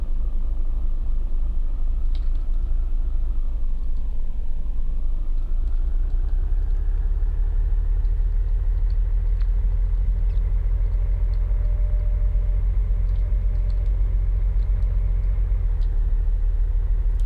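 A car in a retro-style detective video game drives along with a steady low engine rumble and a continuous road drone that shifts slightly in pitch while the motor keeps running throughout.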